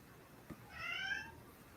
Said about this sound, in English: That was definitely my cat.